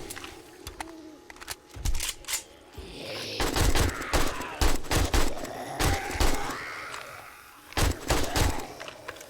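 Gunfire in the 7 Days to Die video game as the player shoots at zombies during a horde night, with bursts of loud sharp shots spread through the stretch, some in quick clusters, over a busy game background.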